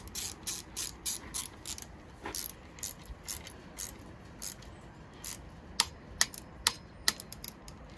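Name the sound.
tightening headset screws until they click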